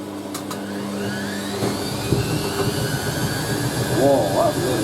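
Hoover A3060 Electronic 1100 washing machine spinning and rocking, a loud steady whirring roar with a low hum and a few knocks and thumps as the drum rocks, plus a brief squeak near the end.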